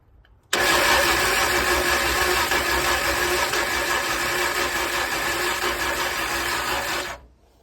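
A Chevrolet 292 engine fires and runs on its first start with a tired battery, a loud, steady, rough mechanical roar that starts abruptly, holds for about six and a half seconds, then cuts off.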